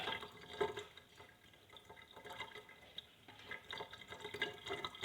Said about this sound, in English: Put the olive oil in